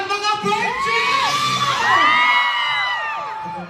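A live crowd at a reggae band performance cheers, whoops and shouts together in a loud, sustained roar with high excited yells rising and falling throughout.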